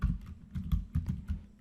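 Python code is typed on a computer keyboard in short uneven bursts of soft, close key clicks, with no talking.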